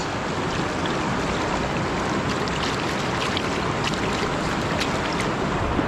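A river current rushes steadily while gold is panned in a rural province, a dense constant wash of flowing water close by with faint splashes and no talk.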